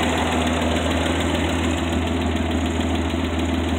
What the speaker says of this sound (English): Still a great running motor.